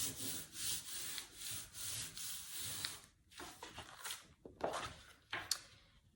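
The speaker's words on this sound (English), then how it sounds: "one of the easiest ways to get these to stick is to actually flip it over and rub from the back" Paper pieces of a second-grade abstract portrait are rubbed firmly from the back, giving repeated soft, dry scrubbing strokes in short bursts with brief pauses, fairly quiet and close.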